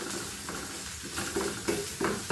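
Onions sautéing in about three spoonfuls of cooking oil for a mushroom dish, a steady close hiss with soft stirring scrapes and a few louder clinks of utensil against pan.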